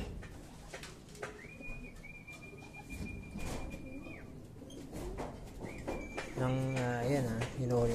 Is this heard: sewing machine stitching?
no